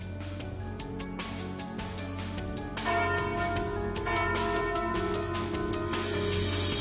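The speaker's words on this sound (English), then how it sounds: "Ah, and there's the noon bell." A noon church bell rings repeatedly in a carnival game setting, with steady overlapping tolls that build and sustain loudly, resonant and close, with no talk.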